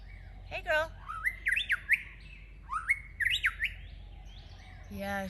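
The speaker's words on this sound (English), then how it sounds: "This is called a white-rumped shamas." White-rumped shama in the jungle calling close by: a harsh squawk, then runs of quick rising whistled chirps in two bursts, ending with a short buzzy rattle; no voices.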